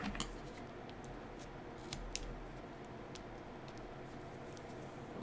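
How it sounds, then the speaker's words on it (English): Non-stick scissors snipping through cardstock during a papercraft session, a few crisp short cuts standing out over a steady low room hum, close and fairly quiet. "Non-stick scissors are your friend."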